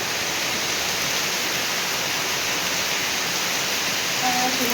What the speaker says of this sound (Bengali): প্রচণ্ড বৃষ্টি হচ্ছে এখন